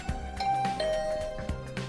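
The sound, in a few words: doorbell ringing at a room door, from the video game Hundred Line Last Defense Academy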